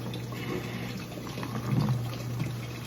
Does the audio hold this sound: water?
yes